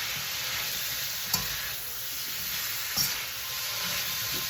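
Vegetables with onions sizzle steadily in a hot pan during stir-frying, a continuous close frying hiss with two soft utensil knocks.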